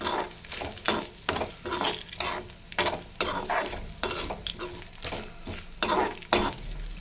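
Urad dal and dried chillies roasting in a pan, a steady dry sizzle broken by repeated scraping stirs of a spoon against the metal, close and moderately loud.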